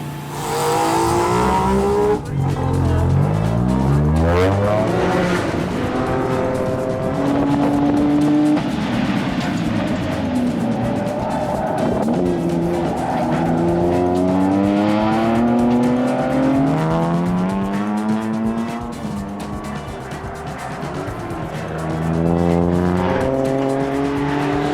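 A time attack car laps Tsukuba circuit after an engine repair, its engine revving hard through repeated upshifts and downshifts, loud and close, with faint tire squeal and no voices.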